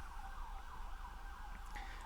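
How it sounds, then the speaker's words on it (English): An emergency vehicle siren in Brooklyn wails steadily in a rising and falling pattern, distant and faint over low traffic rumble. "Sorry for the sirens. I live in Brooklyn,"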